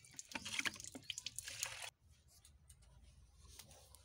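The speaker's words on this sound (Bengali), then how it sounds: "তাই আমরা আজ থেকে আমরা টিউবওয়েলের জলেই স্নান করবো।" Tubewell water splashes and pours during a bath, with dense, close sloshing and dripping for about two seconds before it drops to quieter, scattered trickles.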